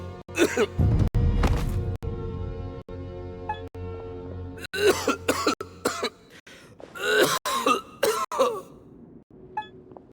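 Repeated harsh coughing fits and throat clearing from a character in Genshin Impact, loud and close, coming in bursts with short pauses between them.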